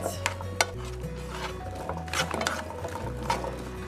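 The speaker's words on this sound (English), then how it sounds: "It's a sweet onion that I used. And we're going to just saute this a little bit." Sweet onion starts to sauté in a pan for vegetable chow mein, a faint continuous sizzle under a low background hum, with a few clinks and stirring knocks of a utensil against the cookware.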